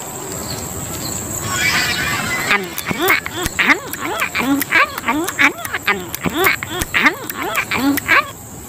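Cartoon ducks on a duck farm quack in a rapid, rhythmic series of loud, close calls after a quieter opening couple of seconds.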